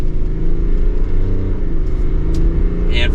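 A 2024 GMC Yukon XL Denali Ultimate with a turbo diesel engine accelerates, producing a steady, loud low engine drone with rising harmonics that holds without a break, with no one talking.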